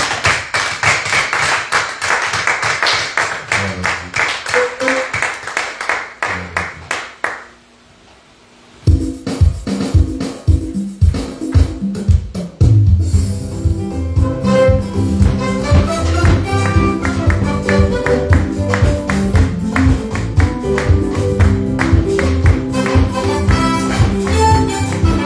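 Church congregation at an evangelical service clapping in steady rhythmic unison, loud and close. The clapping breaks off into a brief near-silence, then returns joined by music and voices.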